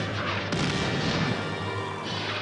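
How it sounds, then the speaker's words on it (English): Archival war footage of Germany invading Poland carries a dense, continuous roar of gunfire and artillery with rough, crackling bursts throughout. "The roar of gunfire replaces the talk of statesmen"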